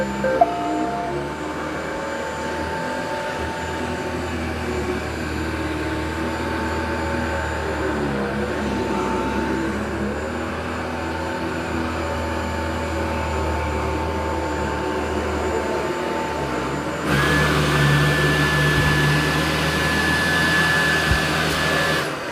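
A Dyson 360 Vis Nav robot vacuum runs with a steady, close whirring motor hum that holds constant, then steps up to a louder, higher-pitched drone near the end.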